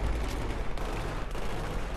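Dense, continuous rumbling bursts of shotgun fire in Battlefield 3 with heavy low-end booms, packed tightly together with no clear gaps, loud and close throughout.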